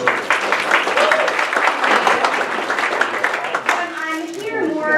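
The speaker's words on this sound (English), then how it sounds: "Give her a few minutes and a round of applause." An audience at a Chamber of Commerce business event applauds steadily, a dense crowd clapping throughout, with a few voices and a child's speech rising near the end.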